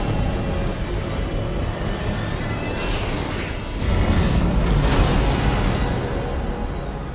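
A reconstructed monorail runs in the video game Death Stranding 2: On the Beach. A continuous loud rushing rumble carries on throughout and swells midway, with no talking.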